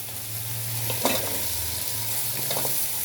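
Potatoes cut small, added to fried spices in a pan for a dried-fish curry, sizzling steadily under a spoon that stirs with a few scraping knocks; close, constant frying with no talk.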